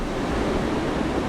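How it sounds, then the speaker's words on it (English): Ocean surf breaking on a reef at a surf spot, a steady broad roar of crashing waves with wind noise, continuous and fairly loud throughout. "This is pretty close to the waves that we would surf, actually."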